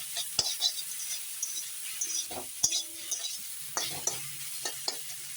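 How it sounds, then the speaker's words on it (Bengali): Home-grown leafy greens (shak) fry in a pan with a soft crackling sizzle, broken by scattered spatula scrapes and light metallic clinks, close but fairly quiet. "এখন শাকটা ভালো করে ভেজে নিই"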